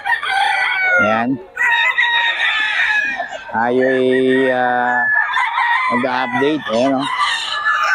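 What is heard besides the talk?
roosters crowing and clucking at Bocaue chicken market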